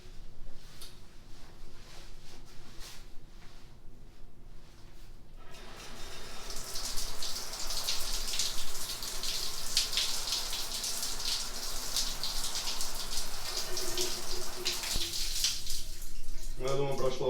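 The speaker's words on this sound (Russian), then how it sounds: "И отправляемся в душ." A shower sprays steadily onto a person wearing a zipped membrane jacket with its hood up, a hissing patter of water that starts after a few quiet seconds and continues to the end.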